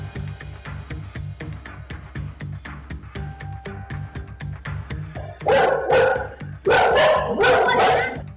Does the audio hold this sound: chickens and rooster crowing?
no